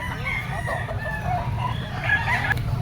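A yellow-legged pumpkin sweater gamefowl rooster crows at close range, one sustained cock-a-doodle-doo with some clucking, heard alone over a steady outdoor background hum.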